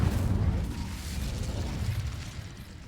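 Incendio fire spell cast in Hogwarts Legacy, a fiery burst with a heavy low rumble that starts strong and slowly fades over a few seconds, heard alone with no talk.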